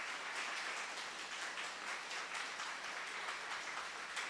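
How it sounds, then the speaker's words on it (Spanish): A church congregation claps together during a Spanish-language Catholic service, a soft, even wash of applause that sounds distant and fairly quiet throughout. "Démosle un aplauso al Espíritu Santo de Dios."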